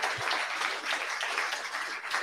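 Audience applause breaks out in a hall at the BarCamp 2022 opening as a team member is thanked. Steady, dense clapping from many hands runs throughout at moderate volume, with no voices over it.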